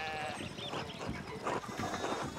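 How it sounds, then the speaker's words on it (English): Sheep bleating in the video game Pentiment, several wavering cries in a row over a busy farmyard background, fairly close and steady. "we need to get these sheep under control"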